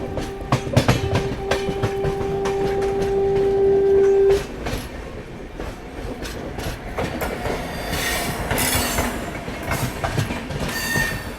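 Duronto Express passenger train running through Khurda Road junction, heard from onboard: a steady rumble with clattering wheels, a sustained horn blast early on, then squealing wheels and rattling carriages.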